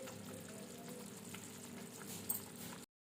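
Green chilies fry in hot oil in a pan for an egg curry, giving a soft continuous sizzle with a small spatter near the end before the sound cuts off.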